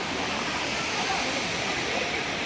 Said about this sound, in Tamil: இங்கே அப்படியே தண்ணி வழிஞ்சிட்ருக்கு